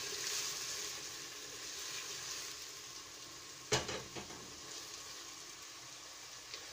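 Onions and dry spices roast in a pan for a beef curry, giving a steady soft sizzle throughout, with a brief louder clatter of stirring near the middle and no talking.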